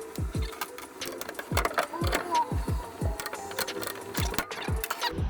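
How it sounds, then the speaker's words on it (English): A hand rivet gun is pumped again and again to set rivets in aluminum jon boat deck framing, making a close run of rapid, squeaky mechanical clicks and thumps that carries on without a break. "Gonna rivet it and then see how it feels afterwards."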